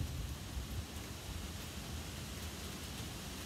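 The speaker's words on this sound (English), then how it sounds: "It's starting to rain on me here." Rain begins to fall outdoors beside a ceramic kamado-style barbecue grill, a steady, faint hiss of drops with no voices.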